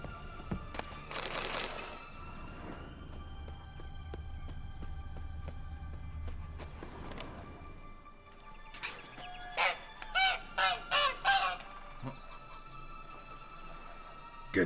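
A caged bird in The Witcher 3: Blood and Wine lets out a quick run of five or six nasal honks near the end, above a steady low in-game hum with a few scattered clanks and rustles earlier.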